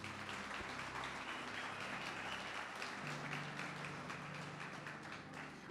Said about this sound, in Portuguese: Então vamos aplaudir Jesus, vamos lá?